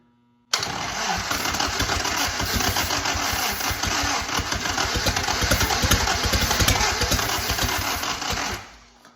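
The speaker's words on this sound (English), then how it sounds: "Got a little bit of starter grind there, so that means it was trying to go." An old WWII vehicle's starter cranks and grinds for about eight seconds, a loud, close, rapid mechanical churning that starts abruptly and then fades out, with no clear catch of the engine.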